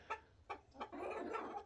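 Hens cluck on a farm where turkeys also roam: three short, separate clucks, then a longer run of clucking. The sound is faint and somewhat distant, with no talking.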